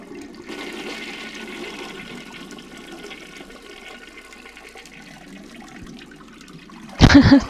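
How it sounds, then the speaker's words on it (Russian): A toilet flushes in the SpongeBob video game Lights, Camera, Pants!, a loud rushing burst of water arriving suddenly at the very end after a long stretch of quiet game ambience. "Такой звук, как будто в туалете воду смыли."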